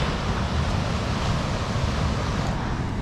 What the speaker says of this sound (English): The waves don't look too big today.